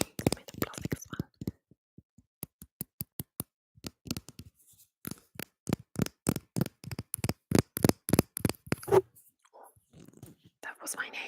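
Soft fingernail tapping and scratching on plastic objects, close and intimate, in a quick run of crisp rhythmic clicks with pauses, interleaved with quiet whispering.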